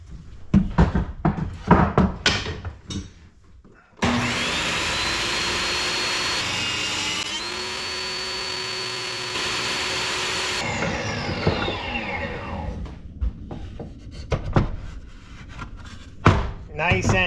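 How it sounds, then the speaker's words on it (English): A table saw cuts a dado in wood aboard a wooden boat, a loud steady whining roar held for several seconds before spinning down, with people talking just before and after. "that's a pretty miserable way to cut a dado. It certainly makes a heck of a lot of noise and sawdust"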